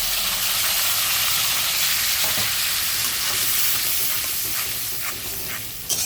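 A paste of ground onion, ginger, chili, cumin and garlic frying in hot oil in a pan, a loud, steady sizzle and hiss with occasional stirring scrapes, close up and alone.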